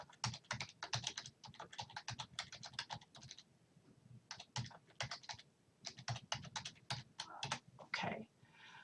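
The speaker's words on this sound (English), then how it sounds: "I have to be able to type to do this." Rapid bursts of typing on a computer keyboard, clattering keystrokes in quick runs with a short pause around the middle, close and clear with no talking.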